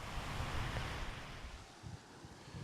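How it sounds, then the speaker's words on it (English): Rushing floodwater flows continuously in Lake Elsinore after heavy rain, a steady broadband wash with wind buffeting, faint and unbroken, without any voices. "the water is still flowing here in Lake Elsinore"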